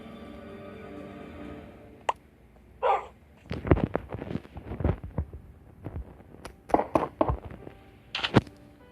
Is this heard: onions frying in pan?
no